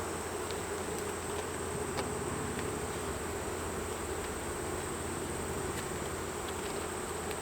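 A dense, steady drone of honeybees hums from an open hive during a frame check, loud and close without a break, and nobody speaks.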